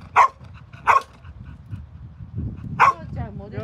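Dog barking outdoors in a garden park, three sharp separate barks with a short whine at the end, close and loud, with faint people chatter underneath.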